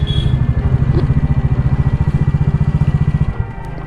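Bajaj Dominar motorcycles pulling up at a hotel, a loud, close engine with a steady pulsing thump and throttle blips, easing off near the end.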